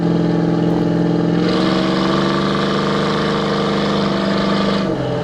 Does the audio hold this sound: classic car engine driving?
yes